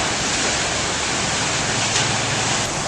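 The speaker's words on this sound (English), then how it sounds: "we're here at Multnomah Falls, which is the most famous waterfall in the Columbia Gorge" Multnomah Falls in the Columbia Gorge near Portland, a tall waterfall heard as a loud, continuous roar of crashing water, steady and unbroken for three seconds, with no talking over it.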